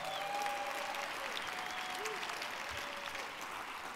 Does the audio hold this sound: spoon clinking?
no